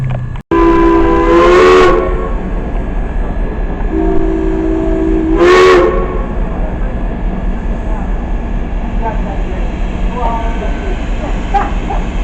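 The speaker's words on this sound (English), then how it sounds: "All aboard, letting out the steam" A Santa Express steam train at Christmas gives two loud, sustained whistle blasts over a constant rumbling hiss of steam and machinery, close by, with voices faintly underneath.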